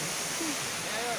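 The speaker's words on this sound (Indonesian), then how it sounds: "Air terjun." The Coban Rondo waterfall produces a steady, dense roar of falling water that fills the whole moment, with faint voices talking under the rush.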